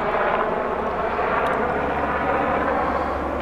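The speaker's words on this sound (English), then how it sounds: "Got another helicopter flying overhead." A helicopter flies overhead above an abandoned highway, its steady broadband engine roar filling the whole stretch at constant, fairly loud level with no voices.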